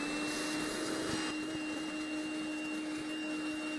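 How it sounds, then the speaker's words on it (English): A vacuum sucks beetles and cabbage worms off garden plants, giving a steady, loud motor whine with a high tonal hum that holds unbroken throughout, with no talking. "I'm literally just going to vacuum them all up."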